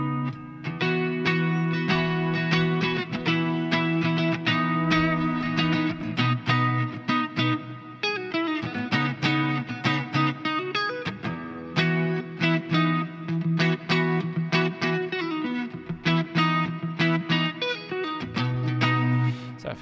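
Electric guitar with heavy reverb playing math rock chord progressions, a continuous wash of bright, distorted chords whose long trailing echoes blur one into the next, loud and steady throughout with no speech.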